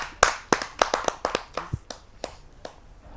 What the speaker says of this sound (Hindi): आइए उनका जोरदार तालियों से स्वागत करते हैं।